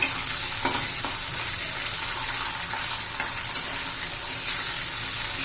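Fresh peas and cabbage cooking in a pan make a loud, continuous sizzle, with occasional stirring scrapes breaking through the steady frying hiss and no voices.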